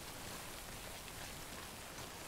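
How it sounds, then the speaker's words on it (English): Steady rain in the video game Death Stranding, a dense even hiss of falling drops with no pauses, fairly soft and heard alone. "Yep, rain, you're not wrong."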